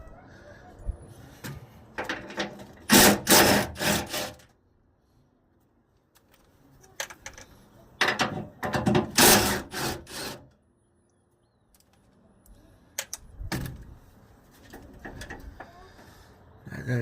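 Bolts come off the door hinges of a 1996 Ford F-150 pickup in bursts of rapid metallic clicking and rattling. Clusters of loud ticks are separated by short pauses and near-silent gaps.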